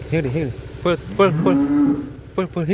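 Cows moo several times in short, low calls, with one longer drawn-out moo in the middle, close by in an outdoor farm setting while a cow is being bathed.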